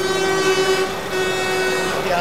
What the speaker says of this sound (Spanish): bocinas